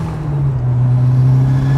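A Ford Sierra Cosworth engine runs close by at a steady, low, throaty idle-to-rev drone, loud and continuous, with no voices over it.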